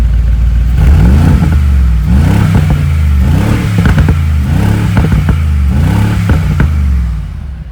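A 2019 Mercedes-AMG G63 engine revs hard with exhaust valves open, about six throttle blips in a steady rhythm, loud and close with a deep, rumbling exhaust.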